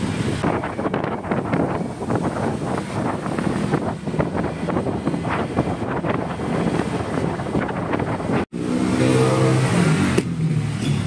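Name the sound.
cars on road after flooding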